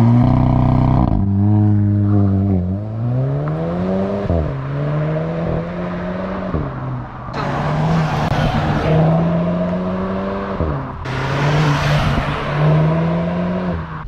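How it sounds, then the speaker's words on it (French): Volkswagen Golf 8 GTI engine pulling hard through repeated gear changes, its note rising and dropping in steps, loud and close with bursts of road and wind noise. "Quand t'accélères, la voiture elle tire un peu."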